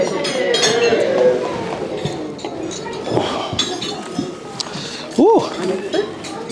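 Glasses clink during a wedding toast, with a few bright clinks rising over steady crowd murmur and chatter in a reception room, one sharper clink standing out near the end.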